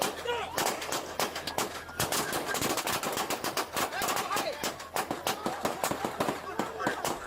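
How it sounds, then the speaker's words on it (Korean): Dozens of gunshots ring out in rapid, uneven bursts during a shootout between police and a driver after a car crash, sharp cracks piling on top of each other with a rumbling background throughout. "그리고 잠시 후 수십 발의 총성이 들립니다."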